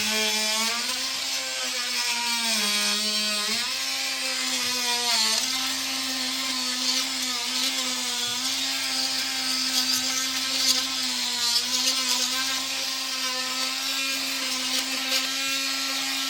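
A battery-powered scraper whines steadily as it strips caked buildup from a mower deck, a loud, sustained motor tone that dips and rises in pitch under load, running alone for the whole stretch.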